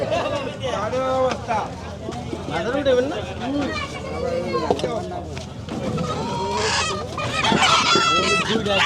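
Roosters and hens at a busy poultry market give loud repeated clucks and crowing calls, close by and overlapping with steady conversation from people nearby.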